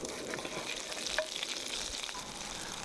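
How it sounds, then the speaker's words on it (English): Butter melting over medium heat in a fry pan with glazed ginger gives a soft, continuous sizzle, fairly faint, with a few light clicks and no voices. "Turn the heat to mid and melt 20 grams of butter. Add 1 teaspoon of glazed ginger"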